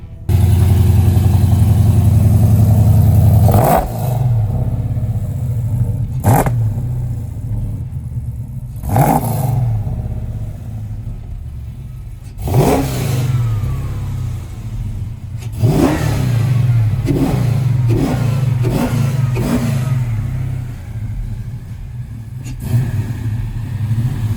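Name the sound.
1971 Cuda engine starting and revving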